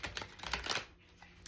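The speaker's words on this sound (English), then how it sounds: "they are super hard to shuffle" A thick, stiff tarot card deck gets shuffled in a quick burst of close, dense clicking and riffling, then settles into quiet with a final faint tap.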